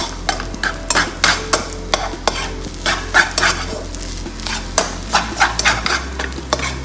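Egg fried rice sizzles hard in a hot pan while a utensil stirs it constantly, giving repeated scraping strokes over a steady close frying hiss.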